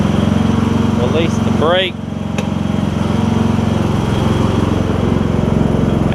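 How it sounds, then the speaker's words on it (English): The engine of a John Deere LA100 five-speed riding mower runs steadily and loud at close range while the mower is in reverse, with a short voice and a pitch dip partway through before the engine rises again. "But we got it in reverse. We'll throttle it up a little bit."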